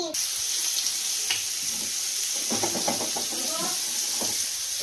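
Mutton pieces frying in a pan for chicken biryani, a steady hiss and sizzle with scattered crackles and pops, close by and fairly quiet.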